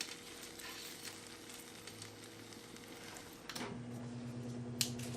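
Chicken thighs sizzling on a Ninja Foodi Grill XL while being flipped, a soft, steady frying hiss with scattered small crackles and clicks, and a brief clatter partway through, all faint and with no talking.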